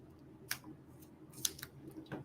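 Small fussy cutting scissors snip through decoupage paper, a few quiet, crisp cuts spaced irregularly over a couple of seconds, close up with no talking.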